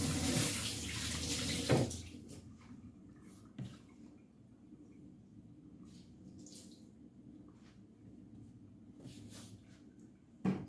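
Salmon being rinsed under a running kitchen tap: a loud rush of water for the first couple of seconds, then quieter trickling, drips and wet handling noises.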